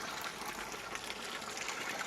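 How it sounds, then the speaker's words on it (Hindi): A hose pipe fills drums with water in a village setting, giving a steady, moderately faint rushing and splashing flow without a break. "तो मैंने पाइप पकड़ के ये दोनों ड्रम भर दिए"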